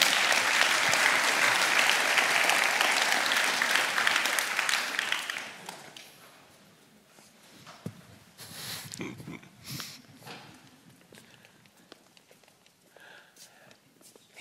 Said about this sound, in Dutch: Geef ze maar een applaus.